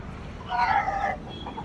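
A Giriraj chicken at a weekly market in Kundapura gives a single short, nasal cluck, fairly close, over a steady background murmur.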